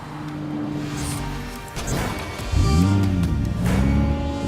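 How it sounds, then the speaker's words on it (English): A Nissan GT-R drives past or accelerates, its engine note rising and swelling in pitch partway through, loud and close with a steady road rush. "Driving a GTR"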